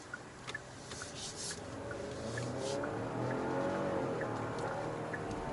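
A Genesis G80 engine rising in revs as it accelerates in comfort mode in city traffic, a broad rumbling roar with road noise, heard from inside the car.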